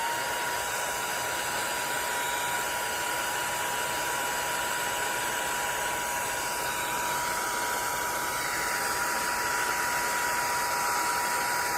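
Hair dryer drying light, painted toilet-paper craft embellishments, a loud continuous close-up roar that holds steady for about twelve seconds with no talking.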